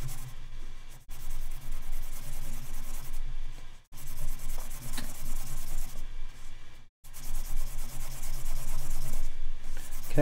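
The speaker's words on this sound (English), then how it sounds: "Sanding, sanding, sanding. Buffing, buffing, buffing." Rough hand sanding and buffing scrapes back and forth in close, continuous strokes, broken by two or three brief pauses.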